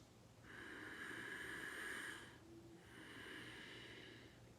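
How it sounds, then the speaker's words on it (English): Two slow, drawn-out nasal breaths, one in and one out, each lasting about two seconds, with a brief pause between them; close and soft against quiet room tone, with no talking, during a relaxation breathing exercise. "You're breathing in through the nose, you're breathing out through the nose."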